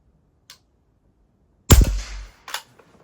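Pump air gun fired once, a loud sharp crack with a brief ringing tail, followed by a smaller click or knock, close by with near silence around it.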